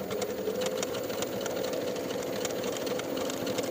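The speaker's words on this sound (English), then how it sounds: "Then we'll sew along the bottom edge of our flap straight across" A sewing machine runs steadily while edge stitching straight across the bottom edge of a dress pocket flap, its fast, even motor whir and needle ticking close and continuous.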